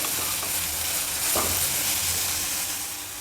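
Onion and tomato fry in a pan for a buttermilk rasam, giving a steady, close sizzle that holds evenly throughout with a brief stir midway and no voices.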